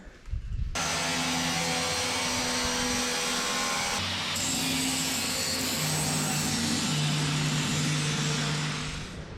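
Big angle grinder cutting a hatch opening in a Mercedes-Benz Unimog expedition camper body, a loud sustained whine that starts abruptly and holds a steady droning pitch with slight shifts as the disc bites.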